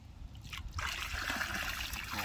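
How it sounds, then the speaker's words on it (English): Water poured from a bucket splashes and trickles over a landed carp's gills at a lake in France, a steady close pour running for about a second and a half after a brief pause. "I'll just get my bucket"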